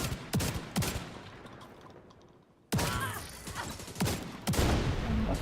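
Rapid bursts of gunfire from The Division 2 shooter game, several sharp loud volleys with a short lull in the middle, then renewed dense firing and impacts.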